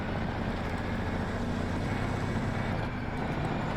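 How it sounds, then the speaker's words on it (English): Renault Kerax truck engine in the video game SnowRunner, a steady deep diesel drone with heavy low rumble, continuous and loud without talk. "Engine sounds are absolutely incredible."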